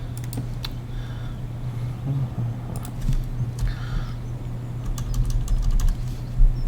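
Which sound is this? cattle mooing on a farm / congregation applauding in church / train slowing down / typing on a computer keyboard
typing on a computer keyboard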